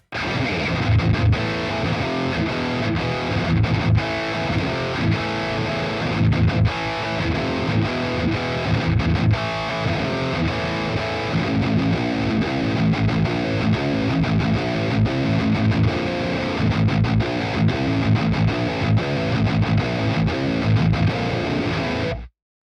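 Electric guitar played through the modern channel of the Nunchuck PolyChrome DSP at high gain, a loud, dense, heavily distorted riff chugging steadily with tight palm-muted bursts throughout.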